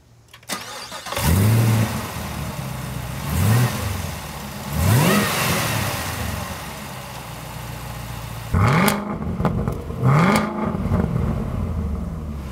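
A Chevrolet Camaro ZL1 convertible with a 10-speed automatic accelerates hard in repeated pulls, its engine revving up in short rising bursts punctuated by quick shift blips, loud and close.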